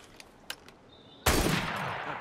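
A single sharp rifle shot in the video game Assassin's Creed Syndicate cracks loudly and is followed by a long, noisy echo that slowly fades, with a couple of faint clicks beforehand.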